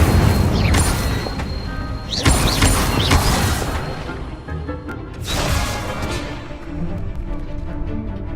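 Repeated fiery whooshes and bursts from the Incendio spell in Hogwarts Legacy, loud and close, several surges of crackling flame with rumbling game effects between them.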